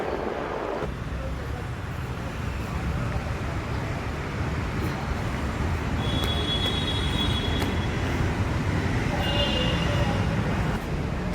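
A metro train in Bengaluru rumbles steadily with broad, continuous rail and wind noise, a constant near roar throughout, with faint high whines appearing partway through.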